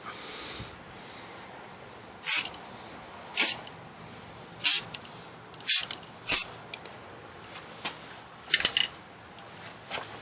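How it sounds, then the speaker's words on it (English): Short hissing bursts of spray paint, about seven quick sprays at irregular intervals over a quiet background, close to the microphone. "I'm just going to set it right there and spray my orange around it"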